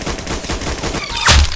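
Rapid gunfire in the Roblox game Arsenal, a dense rattling burst of shots ending in a louder blast, loud and close, with no talking.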